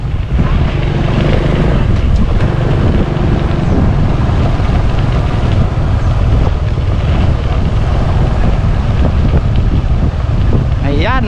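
Strong wind buffets the microphone at an open scenic lookout, a constant loud rumble and roar for the whole stretch, with a voice briefly audible underneath.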